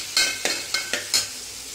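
Big onions sautéing in a pan while a North Indian lunch is cooked, with a steady sizzle of frying and five brisk stirring scrapes spaced evenly about a quarter second apart, close and clear.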